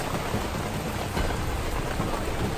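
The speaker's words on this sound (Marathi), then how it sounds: "भयानक मोठा पाऊस झाला मित्रांनो" Heavy rain pours down on Khandoba hill near Pune in a dense, continuous hiss, loud and close, with no voices.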